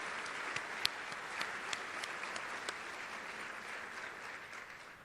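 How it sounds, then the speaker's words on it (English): An audience at the 2016 RTDNA awards applauds the Kaleidoscope Award winners, a faint, distant, even wash of clapping with a few sharper claps standing out, fading slightly at the close. "Let's give another round of applause to all of our 2016 Kaleidoscope Award winners."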